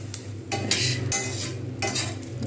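Spice mix is stirred as it dry-roasts in a pan over lowered heat, giving repeated scraping bursts with a low steady hum beneath, close and moderately loud, with no talking.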